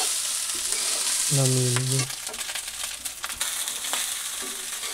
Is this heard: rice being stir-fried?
yes